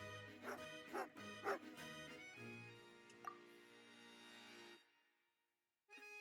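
Dog barking and yipping in a Genshin Impact-style video game, a few short bright barks early on followed by whimpering yips, then a steady tonal game backdrop that drops to silence before resuming.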